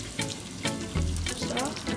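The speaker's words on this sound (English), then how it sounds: "Now we're gonna add in the hot chicken broth piece by piece, and then we're gonna stir it in." Hot chicken broth poured into a sizzling truffle mushroom risotto, bursts of hissing sizzle and liquid splashing in quick pulses, close and fairly loud.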